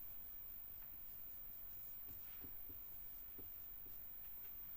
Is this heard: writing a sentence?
yes